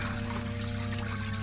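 Fountain water splashing and trickling into a stone basin in a radio drama, a steady soft pour under a low hum, brief and continuous.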